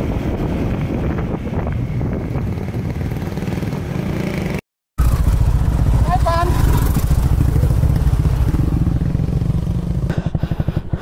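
Motorcycle ride along a road on the Marinduque loop in the Philippines, with a steady engine drone and heavy wind buffeting the microphone, a short dropout, and a voice briefly talking over it.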